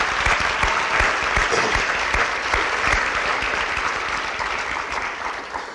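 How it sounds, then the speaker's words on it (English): Steady, dense applause from a large audience at a 2019 high school commencement ceremony, loud and sustained throughout, fading slightly toward the end with no talk over it. "Let's give them another round of applause."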